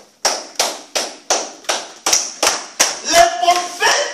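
Rhythmic group clapping in a church service, about ten sharp, evenly spaced claps, loud and close, loosening slightly toward the end.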